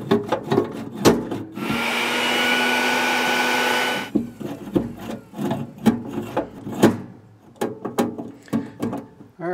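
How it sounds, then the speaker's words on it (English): A vacuum cleaner runs for about two seconds, loud and steady, sucking wood pellets out of a jammed pellet grill, amid sharp knocks, scrapes and rattles of handling before and after. "I'm going to go get a vacuum and just vacuum this up to make it easier to get out."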